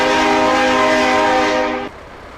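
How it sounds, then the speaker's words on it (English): A truck horn in Farming Simulator 22 sounds one long, loud, steady blast with a deep, train-like chord tone, then cuts off abruptly and leaves a faint hum. "Sounds almost like a train horn, but it suits the truck."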